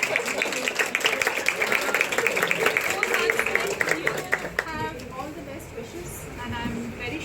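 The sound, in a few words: clapping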